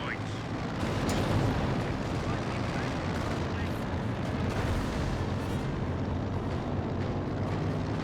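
Rocket barrage in the Company of Heroes 2 war strategy game: a dense, continuous roar of rumbling explosions and crackling bursts, steady throughout, with a commentator talking over it.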